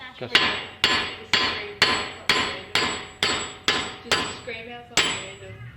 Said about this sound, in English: taking the studs, the factory studs out of the back